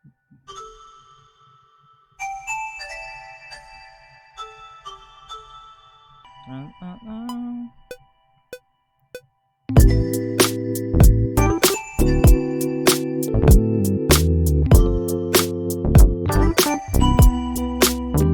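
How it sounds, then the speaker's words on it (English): A bell-like chime rings through a neo soul K-pop beat, sparse tones at first and then bright, dense percussive hits with the full beat. "Sounds a little Christmas too, because I added the bell sound."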